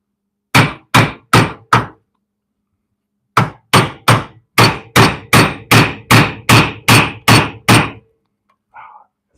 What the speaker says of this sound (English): let's grab a sacrificial piece and the hammer